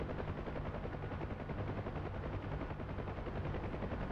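A door-mounted minigun on a UH-1H helicopter fires a long continuous burst in DCS World. The rapid rattling stays steady and dense under the helicopter's engine and rotor drone, with no talking.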